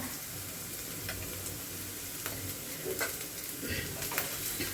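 Vegetables and rice stir-fried in a pan give a steady low sizzle with scattered scraping and clicking stirs, close and fairly quiet, no talk over it.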